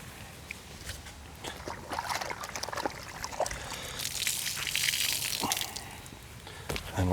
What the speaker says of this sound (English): And we'll just make sure we rinse really well.